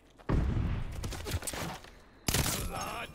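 Rapid bursts of automatic gunfire in the shooter game COD Vanguard, two dense volleys separated by a softer stretch, loud and close with no talking.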